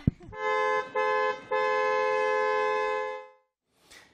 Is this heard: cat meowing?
no